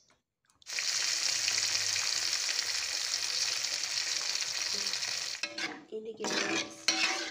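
Razor clams stir-fried in rujak spice in a pan, with steady sizzling and stirring scrapes that break into clattering utensil knocks near the end, plus a brief voice.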